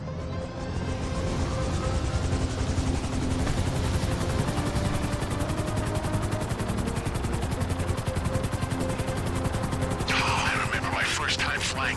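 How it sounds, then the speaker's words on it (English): A helicopter flown in the video game Agent ULP, a steady low rotor drone with dense chopping thrum that holds loud and constant throughout, joined near the end by brief voice sounds. "First time flying an agency helicopter."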